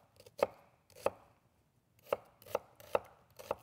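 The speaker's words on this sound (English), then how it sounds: "cut your onion into smaller pieces" A knife chops onion on a flat cutting board with six distinct, close, crisp thuds at an uneven pace and quiet gaps between them, with no talking.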